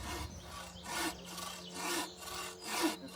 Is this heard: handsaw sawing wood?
yes